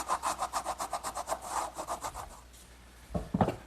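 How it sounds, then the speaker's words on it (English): A wood rasp works the inside of a hardwood mortise for a trestle table with a rapid, even run of about a dozen scraping strokes, close and clear, ending in a couple of knocks. "Now a little bit of work with a wood rasp, and that'll finish up the inside of this mortise."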